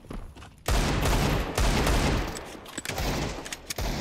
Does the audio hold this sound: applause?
no